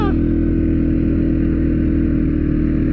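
A CFMOTO CFORCE 450 4x4 ATV engine runs loud and close, holding a steady, heavy throbbing drone for the whole stretch with no pause.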